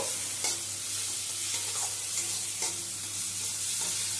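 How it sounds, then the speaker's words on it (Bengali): Mankochu, a giant taro, is sautéed in a pan with a little turmeric powder. A steady close sizzle runs throughout, cut by repeated scraping strokes of a spatula at an uneven rhythm. "দিয়ে দিলাম সামান্য হলুদ গুঁড়ো দিয়ে আবারও কিছুক্ষণ কষিয়ে নেব।"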